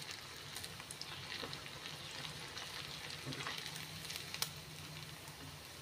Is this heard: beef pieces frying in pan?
yes